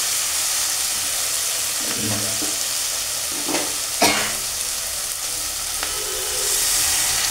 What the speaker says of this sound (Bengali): দেখো সবজিটা কত সুন্দর ভাজা হয়ে গেছে